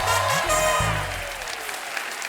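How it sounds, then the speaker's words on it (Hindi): Loud applause from a TV studio audience at a comedy talk show, steady clapping that fills the whole moment and slowly thins toward the end. "एक बार हमारी टीवी क्वींस के लिए जोरदार तालियां हो जाएं"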